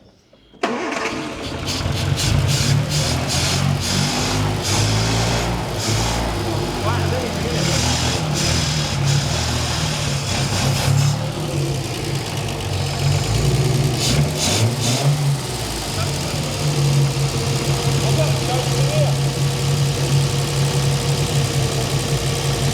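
A Triumph 2000 MK1 car engine cranks, catches and settles into a steady, loud idle that runs on continuously, with voices talking over it.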